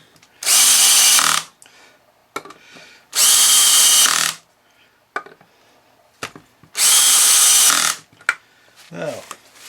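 Three loud bursts of a clutch-equipped power drill driving into a hardwood bowl blank, each whine lasting about a second, separated by quieter gaps with short knocks and bits of a voice.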